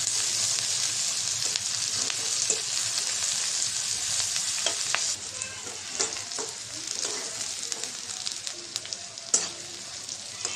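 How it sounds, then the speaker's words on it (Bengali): Chopped onion and green chili fry in oil with a steady, bright sizzle, broken by scattered clicks and scrapes as the pan is stirred. "আর এখানে পেঁয়াজ কাঁচামরিচ তেলের সাথে ভেজে নিতে আসছি মিষ্টি কুমড়াটা ভাজি করার জন্য"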